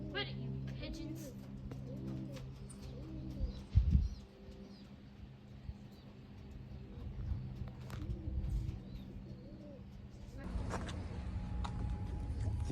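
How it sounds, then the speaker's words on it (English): Soft, repeated cooing of pigeons nesting under a bridge, low rhythmic calls heard faintly amid outdoor ambience, with people talking nearby and a brief bump partway through. "Hey, they're making pigeon noises."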